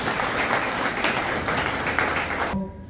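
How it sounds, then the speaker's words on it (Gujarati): Seminar audience applauding Tilakbhai, a steady room-filling patter of many hands at even strength that cuts off abruptly near the end, followed by a faint low hum. "એકવાર તિલકભાઈ માટે બહુ જોરદાર તાળીઓ થઈ"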